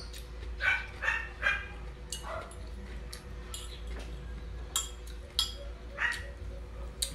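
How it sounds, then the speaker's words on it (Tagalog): A neighbour's dog barks in a series of short, sharp yelps from a moderate distance, coming in two clusters with gaps between them, over a low steady background hum. "Yung aso ng kapitbahay namin"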